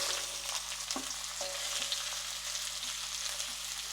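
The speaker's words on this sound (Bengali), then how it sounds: "এটা ভালো করে ফ্রাই করে নেব।" Five or six sliced medium onions frying in hot oil for fried rice, a steady close sizzle with a few soft stirring knocks and no talking.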